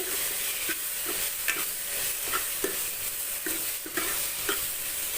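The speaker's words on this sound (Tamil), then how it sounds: "கொஞ்சம் நேரம் அப்படியே வதங்கட்டும்" Chopped tomatoes sauté in a pan for a South Indian tamarind curry, giving a steady close sizzle broken by several scraping stirs of a spoon.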